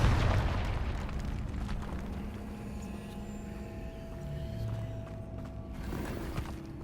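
A Confringo fire-blast spell detonates in Hogwarts Legacy, a loud booming burst at the start that rumbles and fades into lingering crackling debris and ambient game noise.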